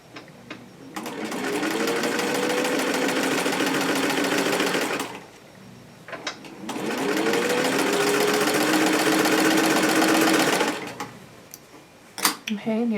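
Domestic sewing machine chain-piecing quilt block patches, running in two long steady whirring bursts with a brief pause between, and small clicks and handling noises after it stops.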